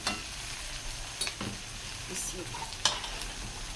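Goat or mutton pieces sizzle and fry in a karahi while being stirred, with scraping and clinking at irregular moments over a steady hiss.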